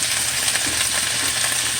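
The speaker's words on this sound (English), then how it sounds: "The skillet is piping hot with that oil" Cabbage, carrots, peppers and onions stir frying in a piping hot oiled skillet, a steady close sizzle and crackle that holds evenly throughout with no talking.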